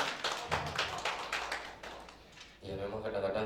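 An audience claps at a motivational talk on leadership and high performance: a run of sharp, fairly rhythmic hand claps for about two and a half seconds, then a voice takes over as the applause fades.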